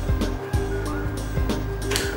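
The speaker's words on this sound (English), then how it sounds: "There's your resident chicken." A chicken clucking nearby, repeated short fowl calls spaced through the clip over a steady background hum.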